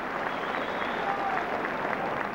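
Football crowd at a Bristol Rovers versus Aston Villa match applauding a young player, a steady, moderately distant wash of clapping and crowd noise.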